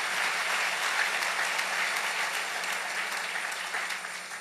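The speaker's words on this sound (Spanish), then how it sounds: "denle un aplauso al Rey bendito" Sustained applause from a church congregation fills the space, a steady dense patter of clapping that holds at an even level throughout without talk.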